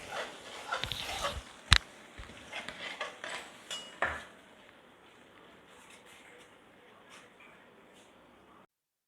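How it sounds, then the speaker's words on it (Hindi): A metal spoon scrapes and clatters against a pan while semolina halwa is stirred, with irregular knocks and scraping that are louder early on, then fade to a soft, steady background. "अब इसको मुसलसल चम्मच लाना है और उसको अच्छी तरीके से मिक्स करना है"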